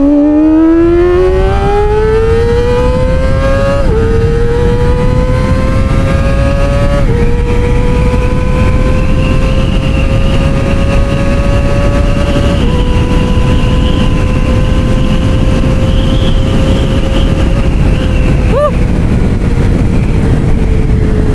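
A Kawasaki Ninja ZX25R motorcycle engine revs loud and close with a high, rising whine, climbing through several steps and then holding a high steady scream for a long stretch.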